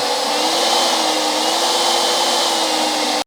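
Skil cordless leaf blower at full turbo, a loud steady broadband roar with a faint whine held evenly for about three seconds before cutting off abruptly.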